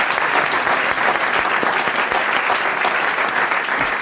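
A studio audience on a 1993 French radio game show breaks into loud, sustained applause, thick and continuous clapping from many hands filling the room without pause.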